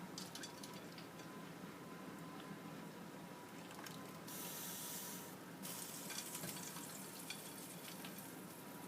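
Blanched vegetables are plunged into an ice water bath, giving a steady, faint wash of running, churning water with a brief, brighter splash in the middle, heard up close with no voices.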